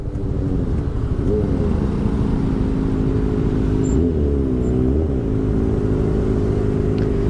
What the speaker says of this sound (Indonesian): Kali itu kayak pakai knalpot yang agak ngebas ya.